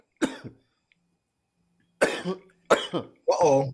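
Several sharp, harsh coughs come close to the mic, one short burst, then a pause, then three more in quick succession.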